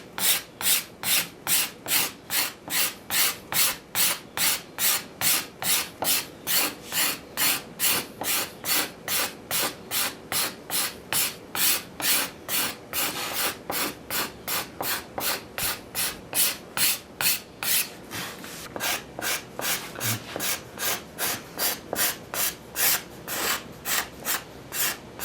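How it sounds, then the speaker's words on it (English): Hand sanding of a carved wooden chair seat: a steady, rhythmic back-and-forth rasping, close and even, with strokes roughly twice per second continuing without pause and no talk. "I do sand out this part where I've carved on the top"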